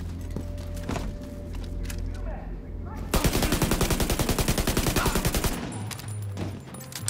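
Gunfire erupts in The Division 2, a loud, rapid string of automatic shots lasting a few seconds after a lighter opening stretch of scattered game noise, then fading into a low rumble.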